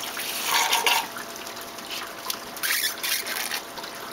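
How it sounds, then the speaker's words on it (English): A small squeeze bulb draws leftover water from the bottom of a home aquarium during weekly cleaning, giving gurgling, trickling slurps in a few uneven bursts, close and moderately loud, with no talking. "I like to use the little squeeze bulb sometimes to get some of the extra water off the bottom."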